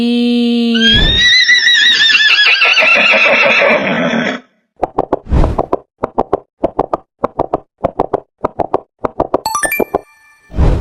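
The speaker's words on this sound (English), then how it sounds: "This is horse." A horse whinnies loudly in a long, quavering neigh lasting about four seconds, then a rapid series of sharp plopping knocks and hoof-like clip-clops follows in an uneven rhythm, close and clear with no talking.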